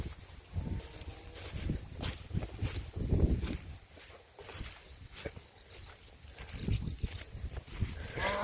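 Cattle in a farm pasture give a low moo and move about, with soft hoof steps and rustling grass. The sounds come in uneven bursts against outdoor wind and are moderately close.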